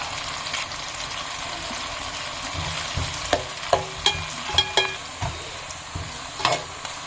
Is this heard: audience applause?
no